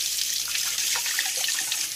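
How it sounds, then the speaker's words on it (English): Water runs and splashes continuously as hands are rinsed, a close, steady spattering stream with no talking. "Now that you've added that, just rinse your hands off."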